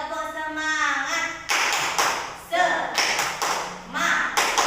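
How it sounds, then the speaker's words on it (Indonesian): A classroom of children performing the rhythmic Indonesian 'tepuk semangat' spirit clap, crisp bursts of group clapping in a patterned beat mixed with chanting voices, loud and close. "Tepuk semangat."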